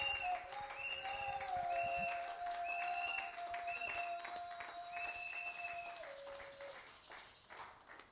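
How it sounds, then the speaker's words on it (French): A church congregation claps and cheers steadily, with sustained tones of music or voices held above the crowd for several seconds before the applause thins and fades out. "Acclamez glorieusement pour la gloire de Jésus-Christ."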